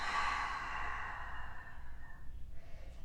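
A long, breathy open-mouth exhale from a yoga practitioner during power yoga, close and soft, fading gradually into quiet room tone.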